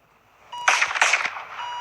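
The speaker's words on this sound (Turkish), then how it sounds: "silah sesleri geliyor ya" Video game gunfire in a hospital setting: a short burst of two or three sharp, bright shots with ringing tails, fairly loud against quiet electronic tones.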